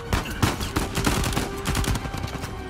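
Rapid gunfire crackles in Uncharted 4: A Thief's End on PS4 Pro, a loud, dense stream of overlapping shots and automatic bursts with no pauses.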